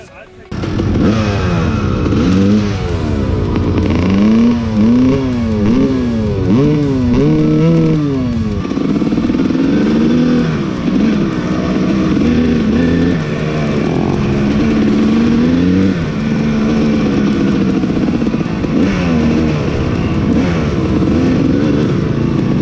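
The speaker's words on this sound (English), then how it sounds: "This thing's running rich, so we're gonna lean her out, see how she runs." A dirt bike engine runs after its carburetor has been leaned out, revving loudly and steadily with rising and falling pitch sweeps, close up and continuous throughout.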